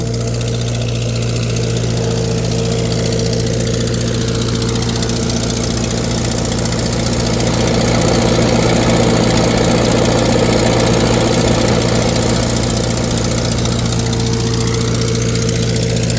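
A tractor engine idles steadily on a dyno, a loud, constant mid-pitched drone with a slight knock and a gentle swell in revving toward the middle, with no talking.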